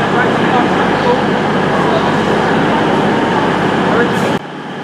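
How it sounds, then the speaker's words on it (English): A South Western Railway class 444 electric train rumbles steadily and loudly nearby as it pulls out of Bournemouth station, the noise holding constant before dropping sharply at the end. "departing now is the 1443 Southwest train service to Poole from London Waterloo"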